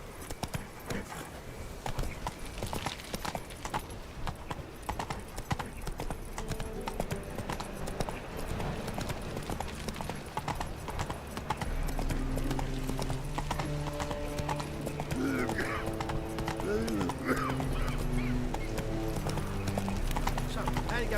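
Roach, the horse in The Witcher 3, gallops with a rapid steady clip-clop of hooves while game music rises and a voice talks over the action.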